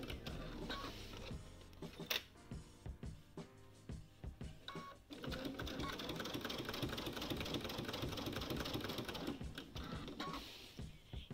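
A sewing machine fitted with a walking foot stitches binding onto a quilt, giving a rapid, even mechanical whir in bursts. Short pauses and clicks break it up, and a longer continuous run follows midway, all fairly faint.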